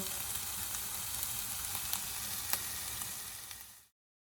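Steady sizzling in a hot pan of bacon and snake beans, with scattered pops and crackles while the food is stirred, close and fairly loud, then it cuts off.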